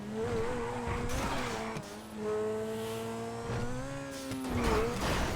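A Grotti Turismo R supercar in GTA Online revs hard, its engine pitch climbing and dipping through gear changes while tires squeal briefly, loud and continuous.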